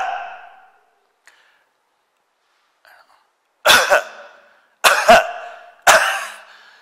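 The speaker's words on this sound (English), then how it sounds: "Or you do cough like this." Three sharp, forceful coughs in a row near the microphone, each a short burst, following a brief bit of breathy vocal sound and a quiet pause.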